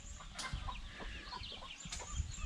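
A Belgian Giant Liege fighter rooster clucks in short bursts close by, with other fowl chatter and farmyard background noise throughout.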